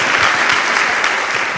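Brief, loud burst of applause from a congregation clapping for Jesus during a Portuguese-language church service, dense and even with no talk over it.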